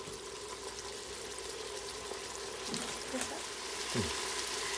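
Chutney with minced meat cooking in oil in a pan, a soft continuous sizzle and bubbling, with a few faint scraping or stirring sounds and no talk.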